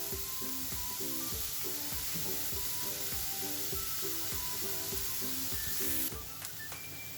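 Onions sautéing in a pan with a pinch of salt for Malabar kalmas, a steady sizzle broken by regular scraping stirs, close and continuous, then a brief clatter near the end.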